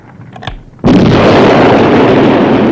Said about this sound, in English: Explosion! No doubt about it.